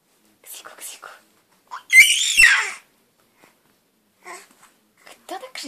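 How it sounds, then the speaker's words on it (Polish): Baby boy screaming loudly before a bath, giving a few short shrill squeals and one longer piercing scream amid brief pauses, close to the recorder and with no adult talk. "Kto tak głośno krzyczy?"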